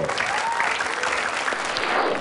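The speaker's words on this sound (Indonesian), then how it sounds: "Mulai tepuk tangan sekali lagi untuk Bayu Wibowo." A studio audience at a school stand-up comedy show applauds Bayu Wibowo with dense, steady clapping across the whole short stretch, with some cheering voices mixed in.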